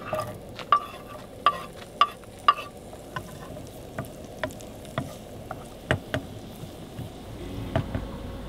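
Shallots, garlic, mushrooms and beer cooking into a creamy sauce in a pan inside a camper van, with a soft steady sizzle under repeated sharp scrapes and taps of a utensil stirring.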